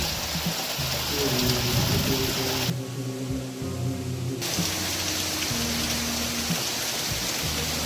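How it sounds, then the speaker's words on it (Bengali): Heavy rain pours down steadily at a home during a Bengali Lakshmi puja in the month of Bhadra, a dense continuous hiss with a low droning hum beneath that dulls briefly midway. "এই দেখুন বন্ধুরা, বৃষ্টিটা এখানে খুব জোরে পড়ছে।"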